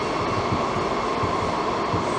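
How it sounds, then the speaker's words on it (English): Steady, loud roar and rumble of a WMATA Metrorail Kawasaki subway train speeding through a Red Line tunnel, heard from on board, with rhythmic wheel beats under a dense rushing noise. "these trains, as soon as they get in the tunnels after Grosvenor,"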